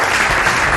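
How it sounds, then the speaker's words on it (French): Audience applause at a French-language TV show fills the moment, a dense, loud wash of clapping with no pauses. "Applaudissez."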